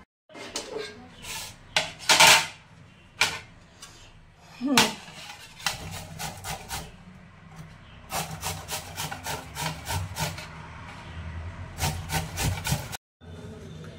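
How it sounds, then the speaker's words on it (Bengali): Scraping of produce, likely palm fruit (taal), against a large kitchen grater, heard as repeated rubbing strokes in bursts, close and fairly loud, with short pauses between runs. "এই যে বড় গ্রেটারটা পেয়ে গেছি, এটা দিয়ে কুড়ে নেব।"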